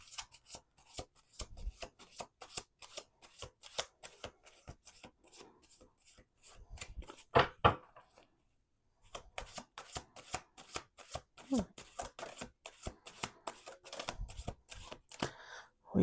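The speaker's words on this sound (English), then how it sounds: "Let's do 2 more shuffles." Tarot cards shuffled by hand on a table: rapid crisp riffling and rubbing bursts in repeated runs, close and clear, with a brief pause in the middle before the shuffling resumes.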